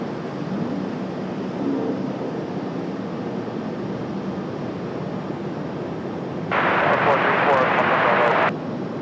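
A 25-year-old Boeing 737-800 airliner at Raleigh-Durham airport gives off a steady, distant engine roar that swells into a brighter, louder rush near the end, with muffled voices underneath.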